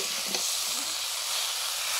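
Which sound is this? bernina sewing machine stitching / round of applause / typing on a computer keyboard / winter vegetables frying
winter vegetables frying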